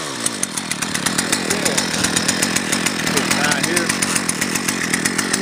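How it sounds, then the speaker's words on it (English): A Sears Craftsman gas weed trimmer runs at a steady low idle close by, its small two-stroke engine giving a fast, even, buzzing rhythm of pulses throughout with no pause. "Okay, fired up in one pull, guys. Got a nice low idle, no problem with that."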